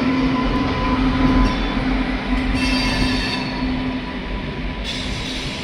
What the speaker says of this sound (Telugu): గోల్కొండ ఎక్స్ప్రెస్ అనుకుంటే ఇది.